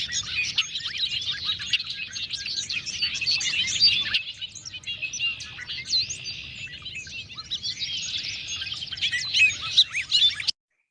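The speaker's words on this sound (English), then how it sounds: "all of this is a bobolink choir." A chorus of many bobolinks sings together in a grassland, a dense, continuous tangle of bubbling, metallic, electronic-sounding warbles and chirps with a brief dip midway, steady and fairly loud until it cuts off near the end.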